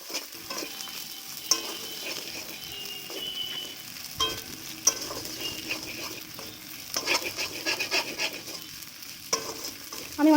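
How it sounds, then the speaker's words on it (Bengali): Ground spices with a little salt, coriander, cumin and turmeric sizzle and fry in a pan for a katla fish head murighonto, with steady frying hiss and repeated scraping stir strokes throughout, no talking. "এবার ওগুলো একটু কষিয়ে নিতে হবে।"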